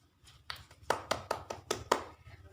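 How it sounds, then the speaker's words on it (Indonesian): A classroom group claps hands, about eight brisk, evenly spaced claps starting softly and growing firmer, fairly close and alone with no talking. "beri tepuk tangan kepada Mas Adit dan Cesa"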